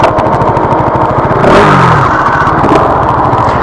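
A Bajaj NS 200 and a Yamaha R15 V2 rev up close and loud at the start of a drag race, their engines droning continuously and swelling into a rising roar about halfway through, with no talk.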